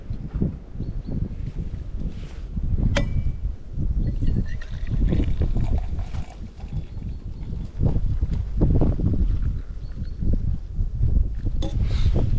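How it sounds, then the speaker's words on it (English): Steady wind gusts buffet a Danish forest campsite with a broad, rough rush, along with scattered knocks and rustling movement nearby. "I think it's gonna be windy now because I can hear it. I can hear the wind."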